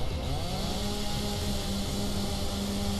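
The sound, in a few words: chainsaw being used in Dead Island Riptide video game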